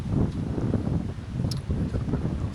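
Gusty wind buffets the microphone outdoors in a yard where pigeons are being released, a continuous low rumbling roar that swells and eases in waves, with a faint rustle over the top.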